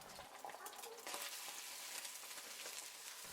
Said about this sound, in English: Quickly stir fry the rice and make sure the rice is well coated with the eggs.